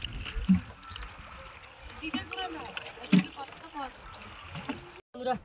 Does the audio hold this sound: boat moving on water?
yes